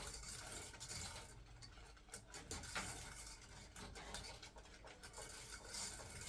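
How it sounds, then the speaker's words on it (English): Sugar-based caramel sauce being stirred in a pot for peanut butter rice krispy treats: quiet, continuous scraping and swirling with faint utensil clinks against the metal, no voices. "And then we will just stir that in together again."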